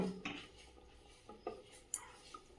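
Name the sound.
putting the lid on the pot of hilsa fish curry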